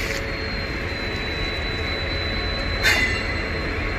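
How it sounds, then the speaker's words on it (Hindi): The Swaraj Express pulling out of Ludhiana Junction, heard from on board as a steady low rumble of rolling wagons with a faint high wheel squeal and a brief louder rattle near the end. "अपनी ट्रेन का डिपार्ट भी हो गया है लुधियाना जंक्शन से"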